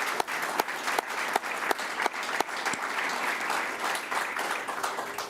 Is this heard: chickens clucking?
no